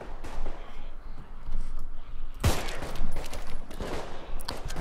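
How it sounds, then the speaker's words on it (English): A burst of rapid gunfire erupts midway through a noisy, dense background in the PC game Contagion, followed by scattered further shots and clatter; no clear talking. "Oh, here, gunfire."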